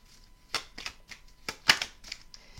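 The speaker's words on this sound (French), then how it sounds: "je vais prendre une carte bonus avant de vous libérer" Tarot cards are handled while a bonus card is drawn from the deck: a string of soft, crisp slaps and shuffling flicks, close and fairly quiet, in irregular bursts.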